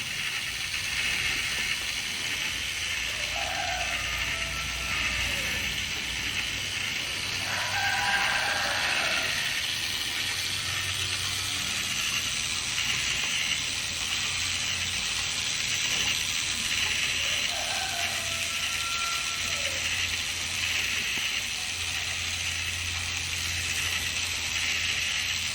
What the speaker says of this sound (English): make sure the wheel spins evenly without wobbling